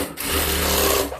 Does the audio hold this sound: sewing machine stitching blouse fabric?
yes